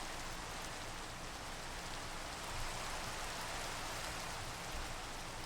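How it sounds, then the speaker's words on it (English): Steady rain in Minecraft, a soft, even hiss of falling drops on surfaces that continues unbroken and fairly quiet, with no talking. "Stupid rain!"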